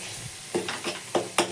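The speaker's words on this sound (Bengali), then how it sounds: "ভালো করে এটা কষিয়ে নেবো" Cauliflower and paneer curry gravy with yogurt is stirred and sautéed in a pan, giving four short sizzling scrapes in an uneven rhythm over a low frying hiss.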